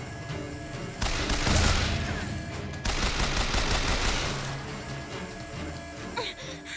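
Rapid gunfire from a newly picked-up gun in Bioshock Infinite, dense bursts of automatic shots in two long volleys with a brief break between, loud and continuous.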